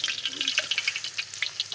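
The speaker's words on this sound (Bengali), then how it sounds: "বিরিয়ানির মাংস রান্না হবে এখন। দিয়ে দিচ্ছি তেজপাতা, শুকনো লঙ্কা।" Biryani meat fries in hot oil with bay leaf and dried chilli, producing a steady, close crackling sizzle with brisk popping and stirring.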